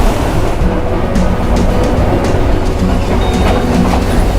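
A passenger train rolls along in Sri Lanka near Galle Face beach in Colombo, its steady rumble and rhythmic clickety-clack of wheels over rail joints filling the whole span without any voices.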